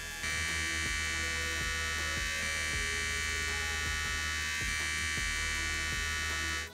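A Manscaped Lawn Mower 4.0 electric body trimmer runs continuously, a steady high-pitched motor buzz with a low hum beneath, faint and even, briefly shifting in pitch as it is handled, with no talking.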